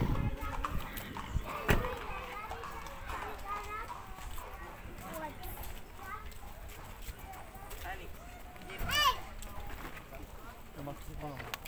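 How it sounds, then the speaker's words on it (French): Show horses clip-clop past on the Côte d'Azur seafront, their hooves ringing in an irregular rhythm at moderate distance while someone talks nearby and children play in the background. "c'est les chevaux du spectacle"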